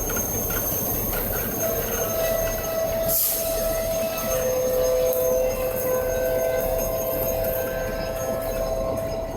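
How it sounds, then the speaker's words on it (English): A train on the WW Railroad's C&M line reverses along the track, giving a steady, fairly loud rumble of moving railcars with sustained wheel squeal and a brief sharper screech partway through, with no talking. "Now the engineer reverses the train to give me and the rail fans some room."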